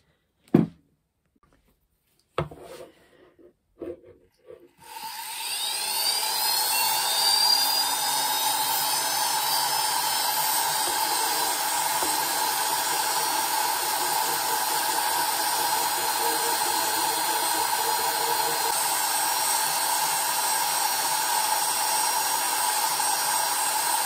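A rotary power tool smooths and deburrs a hand-carved wood piece, whining steadily and loudly for about twenty seconds after a few brief knocks and handling sounds at the start.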